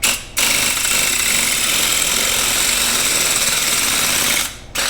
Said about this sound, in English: So we'll try this air hammer first.